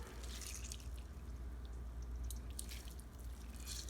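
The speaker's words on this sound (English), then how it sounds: "Squeeze out the extra water into a bowl." Water squeezed from a block of organic extra firm tofu drips and trickles into a bowl, soft and close, with faint splashes over a low background hum.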